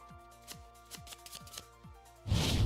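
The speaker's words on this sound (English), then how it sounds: "Deck shuffle." A deck of trading cards gets shuffled close up, with a string of soft, rhythmic riffling slaps about every half second, then a sudden louder burst of rustling at the end.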